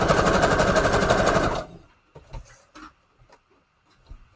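A sewing machine stitches around a layered junk journal embellishment in a loud, steady close burst for about a second and a half, then stops and leaves only scattered light handling noises.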